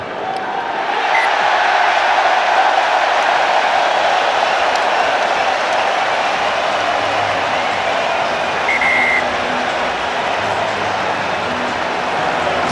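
Huge, sustained roar of a rugby stadium crowd at the 2015 Rugby World Cup match between Japan and South Africa, loud and unbroken with cheering and applause for the full length and no talk over it.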